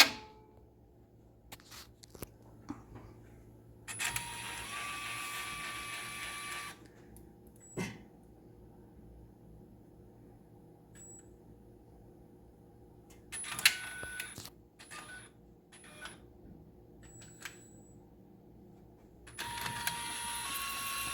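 An Omni Print 330 TX Plus printer runs its maintenance cycle, giving short bursts of mechanical whirring and clicking separated by near-silent pauses, with faint high tones and ratcheting ticks in between.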